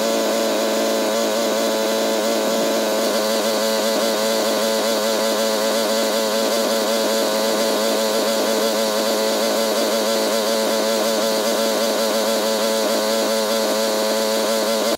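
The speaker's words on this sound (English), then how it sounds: "So I just used my power washer to get there." A pressure washer sprays house wash solution onto vinyl siding, its motor running as a loud, continuous buzzing drone with no break for the whole stretch.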